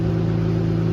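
A race car engine with a two-step engaged runs close by in a steady, loud, even hum with a fine, regular pulsing texture, alone without speech.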